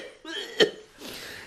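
A man in a radio play gives a harsh, strained cough with one sharp burst in the middle, framed by breathy groaning sounds.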